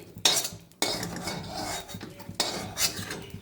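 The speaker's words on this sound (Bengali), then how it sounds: "প্রথমেই বেগুনটা একটু তুলে নিচ্ছি" Fried eggplant being lifted out of a pan with metal utensils, giving a few sharp clinks and scrapes, the loudest in two bursts near the start and later, with no voice.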